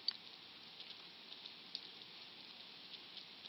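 Steady rain in the video game Persona 4 Golden, a faint, even hiss with light scattered droplet ticks, continuous and without voices.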